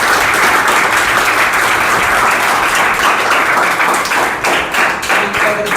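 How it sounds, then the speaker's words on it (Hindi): Loud, sustained audience applause fills a class book launch event for a Class 10 science revision notes book, steady dense clapping throughout with a slight dip near the end. "जोरदार तालियां होनी"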